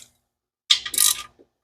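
A short burst of metallic clicking from a ratchet wrench working on the intake of a big-block 1983 Ford Mustang GT Foxbody engine, preceded by silence and ending with a faint tap.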